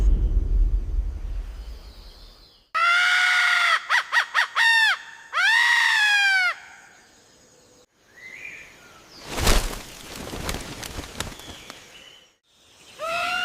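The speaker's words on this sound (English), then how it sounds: "Suddenly, the hornbill sounds a deafening alarm call." A hornbill's loud, harsh honking alarm calls ring out in a rapid series of short notes and then longer blasts, followed by rustling and a burst of crashing noise.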